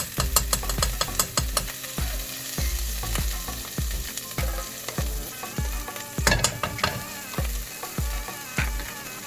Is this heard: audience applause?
no